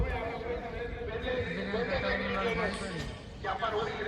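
A horse at a Nihang Sikh gathering in Sur Singh lets out a drawn-out whinny, with some hoof clatter, close by and under steady nearby chatter from people talking.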